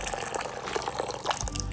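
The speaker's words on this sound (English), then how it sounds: "I'm going to add 1 cup of my boiling hot water to my Jello." Boiling hot water poured from a kettle onto Jell-O powder, a brief gurgling, splashing stream of liquid heard up close.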